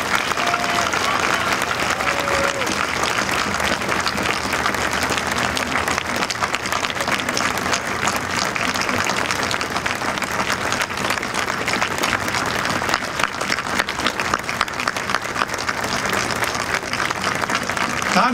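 Sustained applause from a large outdoor crowd at a Holodomor memorial dedication in Washington, DC, steady dense clapping filling the whole stretch without a break.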